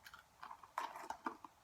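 Close, crisp crunching of a popcorn-like snack with a cashew flavour, a few quiet bites and chews spaced irregularly over a short moment, no talking.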